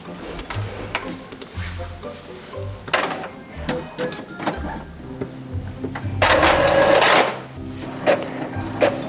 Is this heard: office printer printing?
yes